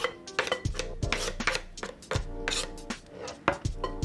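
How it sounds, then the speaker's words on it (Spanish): A knife chopping apple on a cutting board for homemade strawberry jam, a quick run of crisp, close, irregular cuts and taps with faint clattering and scraping. "La manzana lo corto y también lo echo junto con la fresa"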